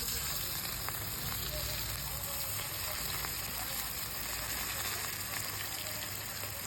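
Stuffed spiny gourd coated in a rice-flour, salt and turmeric batter fries in hot oil, giving a faint, steady sizzle and hiss that continues evenly throughout.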